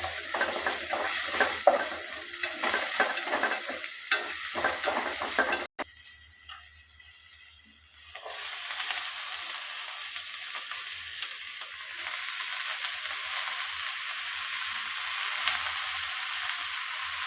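Red spinach dish ingredients sautéing in a pan, with a steady sizzle and stirring scrapes close by that drop away briefly, then the frying hiss returns, steadier and quieter.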